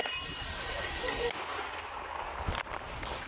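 A sharp, heavy blast from a mortar launch near Bakhmut, followed by a hissing rush and a second thump, loud and close outdoors.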